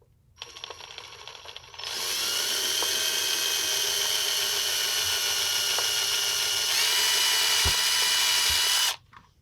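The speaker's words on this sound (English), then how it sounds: "Get a 3mm drill bit, or I could just hit it like this." Power drill with a 3mm bit boring into a workpiece while building a 120v testing device, spinning up after a quiet start, whining steadily and loudly for about seven seconds, then stopping abruptly.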